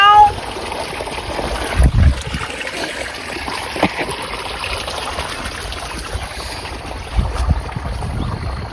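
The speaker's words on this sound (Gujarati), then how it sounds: "તો દોસ્તો પાણી બધું ચાલુ થઈ ગયું છે" Irrigation water runs steadily through a field channel on a farm, a continuous low trickle and rush with a few heavier gusts or splashes partway through.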